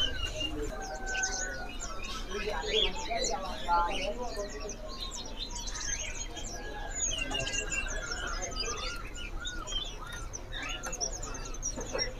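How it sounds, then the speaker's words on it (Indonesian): Caged songbird singing with quick chirps and whistled phrases over steady background noise, fairly faint, with some faint talk in the room. "Berarti ini burung ini udah rawatan, udah tampungan, udah rajin bunyi ya."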